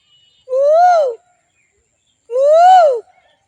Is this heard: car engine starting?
no